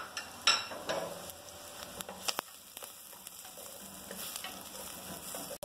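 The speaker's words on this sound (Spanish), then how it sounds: "Ahora agregamos el ajo y lo sofreímos durante 1 minuto" Garlic frying in a pan gives a quiet, crackly sizzle with a few sharp spoon taps and clicks scattered through it.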